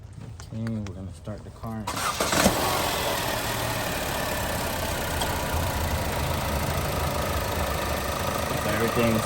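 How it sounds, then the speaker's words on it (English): A Chevy Sonic 1.4 turbo engine cranks and catches after a few seconds of talk, then settles into a steady, close, continuous idle that runs without a break. "Okay, we're gonna start the car."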